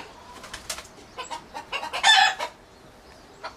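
A hen in a coop clucks loudly to announce a freshly laid egg, a run of sharp, rising cackles building to a sustained squawk, then fading to quieter clucks.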